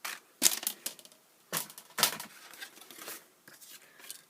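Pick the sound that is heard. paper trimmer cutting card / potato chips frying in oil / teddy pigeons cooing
paper trimmer cutting card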